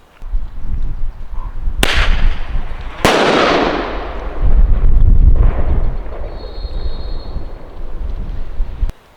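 Bear banger caps fired from a launcher in the BC wilderness: two sharp loud cracks followed by booming reports that echo and roll away across open terrain, then a further bang near the end.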